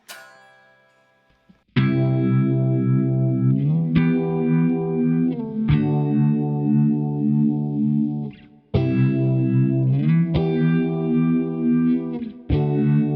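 Electric guitar chords ring out through a swirling phaser effect on a Valeton GP200, several strummed phrases with sweeping, whooshing tone and short pauses between.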